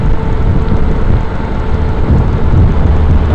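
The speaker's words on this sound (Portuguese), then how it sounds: "Essa garoa de São Paulo ferrou-se tudo." Steady drizzle and road wash on the Via Dutra highway near São Paulo, heard from inside a moving car as a continuous broadband hiss over low engine and tire rumble, with no talk.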